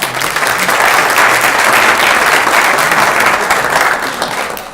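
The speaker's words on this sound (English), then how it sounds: "Please give Lynn a round of applause" Loud, sustained applause from an audience at a Law Day evening event, a dense continuous wash of many hands clapping together that fades a little toward the close.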